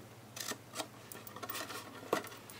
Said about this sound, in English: Now this piece I'm just going to cut off completely.